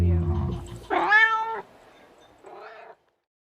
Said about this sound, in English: Cat Audio.